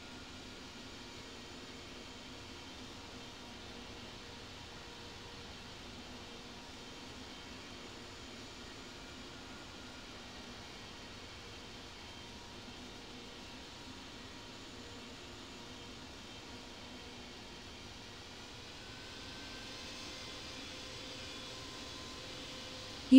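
Airliner taxiing at Miami International Airport in the Infinite Flight game: a steady, faint, even engine drone with a broadband hiss that barely changes, rising slightly near the end, with no talk.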